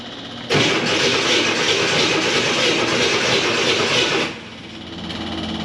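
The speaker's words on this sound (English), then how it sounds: "Fuel pump's kicking on, that's a good sign." A 1964 Corvair Monza's electric fuel pump primes after the car comes out of winter storage, giving a steady loud whirring buzz that starts abruptly, holds for about four seconds, then drops to a quieter hum.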